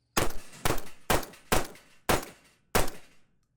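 A MAC 2 compensated firearm fires six sharp, close shots at an even pace about half a second apart, each crack followed by a short ringing decay, with no talk.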